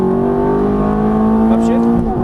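Ferrari F430 engine held at full throttle, a loud steady high-pitched roar with sustained harmonic whine that rises slightly toward the end, close and continuous.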